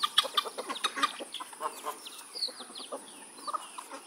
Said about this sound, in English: That's a pretty rooster.